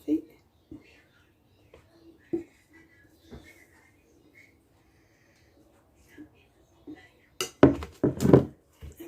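Madeleine batter being mixed with chocolate in a bowl: soft, sparse clinks of a utensil against the bowl, then a burst of louder, quicker scraping and clattering near the end.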